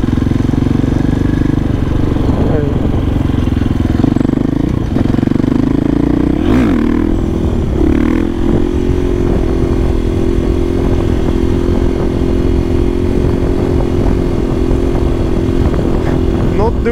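Motorcycles doing wheelies on a road give a continuous close engine drone, with a short rev surging around the middle before settling back to a steady hum.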